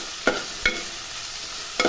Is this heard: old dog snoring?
no